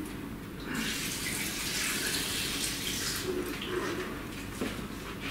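Water poured or running from a tap while a raw vegan meal is prepared, a steady close splashing flow lasting several seconds without talk.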